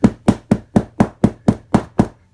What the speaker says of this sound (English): take the hammer and drive it on down in there